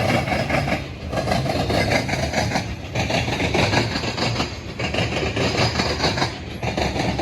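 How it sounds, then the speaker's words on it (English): A heavy freight train rolls past in Marion, Ohio, steady and loud, a dense continuous rumble and rattle of wagons with rhythmic clanking. "heavy train."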